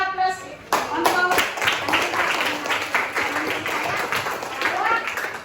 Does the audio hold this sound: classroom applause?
yes